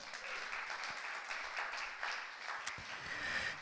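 A church congregation applauding during a Sunday sermon, a steady wash of many hands clapping at moderate distance, sustained evenly throughout without pause.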